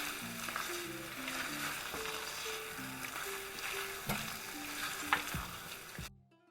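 Green prawn curry with drumsticks is stirred in a frying pan, giving a steady sizzle and scraping stir under soft background music, with no talking.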